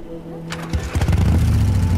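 A motorcycle engine in Beyond: Two Souls cranks and catches, then settles into a loud, throbbing idle with uneven revving pulses.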